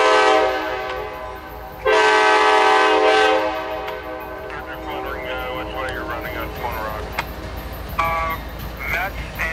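A CSX autorack freight train passes at Harpers Ferry, its horn sounding loud and steady for about two seconds, then the rumble of cars rolling by continues with radio-like voices over it.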